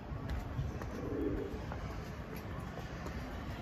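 Pigeons perched on a rooftop, including a black-and-white bird, give soft low coos amid steady outdoor background noise, fairly near and moderately quiet.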